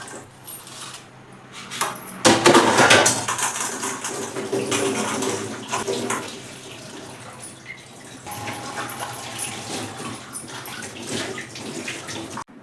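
Green chillies are rinsed under running tap water in a home kitchen, a steady splashing stream with rattling and clatter, louder in the middle stretch and continuing throughout without speech.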